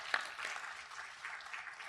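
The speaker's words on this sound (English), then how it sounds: "Please give the U of I a special round of applause." An audience at a university microbiome lecture gives a round of applause, a faint, steady wash of many hands clapping from a distance.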